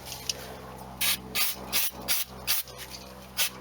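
Short bursts of aerosol brake cleaner sprayed onto the brakes of a Nissan Sunny/Pulsar N13 with a CA18DE engine, about seven sharp hissing blasts in an irregular rhythm, close and fairly loud over a quiet garage background.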